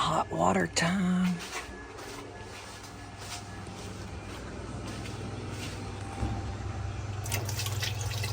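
Hot water poured during a gearcase repair on a Maytag Bravos washer, a continuous splashing, trickling flow that runs steadily after someone briefly speaks.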